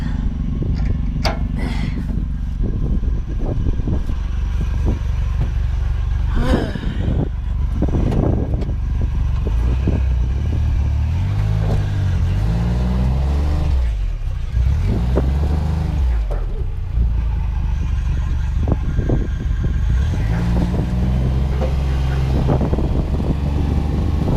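A John Deere Gator utility vehicle's engine runs steadily and close by for the whole stretch, a low rumble with some wind buffeting, while someone talks over it.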